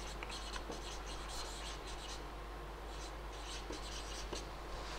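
Steady scratchy pen strokes on paper or board run through a lesson on solid-state space lattices, the writing continuous and close with brief rubbing pauses, no talk.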